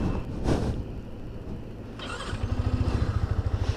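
Yamaha R15M motorcycle, a 2024 model, with its engine running as the ride gets underway, a steady close engine drone that settles into a rhythmic pulsing beat toward the end, with no talking.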